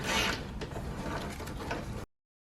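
Tapered bolts being tightened on the door lock actuator of a 2007–2011 Toyota Camry Hybrid door, a close run of ratcheting mechanical clicks and rattles lasting about two seconds before cutting to silence.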